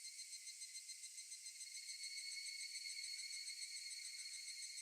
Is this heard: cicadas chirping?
yes